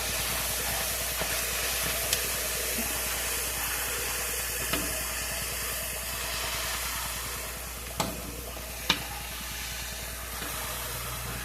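Food fries in a pan with a steady broad hiss and sizzle, joined by a few faint clicks and clinks.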